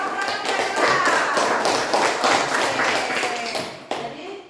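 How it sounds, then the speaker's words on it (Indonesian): Students in a classroom clap together for group 1, a dense, steady burst of palm slaps with scattered taps and thumps that carries on for several seconds before trailing off. "tepuk tangan dulu untuk kelompok 1. Yang keras dong, tangan yang keras"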